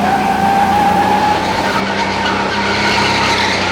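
A powerful indoor go-kart slides through a corner with oversteer on a Cape Town indoor track, the tyres squealing loudly over a high, steady engine whine.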